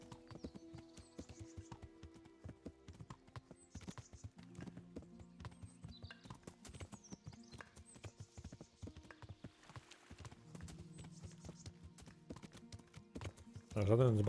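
A horse gallops in the video game Kingdom Come: Deliverance, its rhythmic hoofbeats running continuously at moderate volume while someone talks over them, ending in a louder burst.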